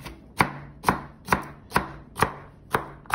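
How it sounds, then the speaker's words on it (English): Knife roughly chopping peeled garlic on a cutting board: seven sharp, evenly spaced thuds at a steady rhythm, close and clear with quiet between strikes and no talking. "now I'll give it a rough chop."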